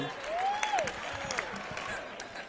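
Brief clapping and crowd murmur from a stand-up comedy audience, moderate and steady, with a voice speaking over it.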